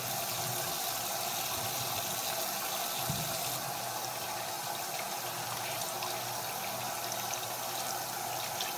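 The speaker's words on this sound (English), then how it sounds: "Now we're going to clean the glass because it still has juice in it." Warm tap water runs steadily over a glass vape tank being washed with soap in a sink, a continuous close splashing hiss with no voices.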